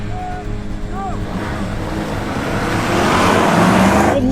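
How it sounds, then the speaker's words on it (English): A 2023 Honda Accord and a classic V8 car launch off the line in a drag race, engines rising from an idle rumble into a loud, steady, building roar that swells further midway through, with no talk. "Good launch in the Accord."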